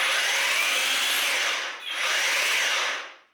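An EGO cordless hedge trimmer runs at a steady high-pitched whine for about three seconds, dips briefly in the middle and then winds down, heard up close with no talking.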